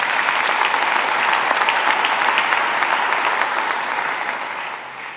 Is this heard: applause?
yes